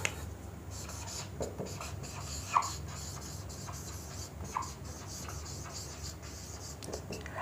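Pen or marker scratches steadily by hand while a physics problem on average speed is worked out, with soft continuous strokes, small taps and rustles, fairly quiet with a faint background hiss.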